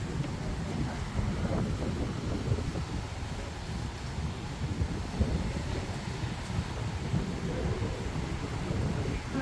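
Heavy rain falls with deep, rumbling thunder and gusts of wind buffeting the microphone throughout.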